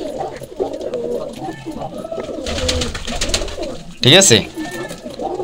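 Pigeons coo in their loft, soft rolling calls recurring throughout at close range, with a burst of wing flapping near the end while someone talks over them.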